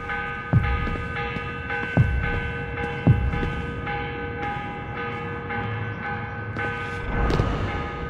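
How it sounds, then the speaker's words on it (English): Morning church bell ringing in Assassin's Creed Revelations: a deep bell tolls at steady intervals, each strike leaving a long humming resonance that blends into a continuous drone. "Morning bell. God, I hated that. Ringing 5 days a week just before dawn."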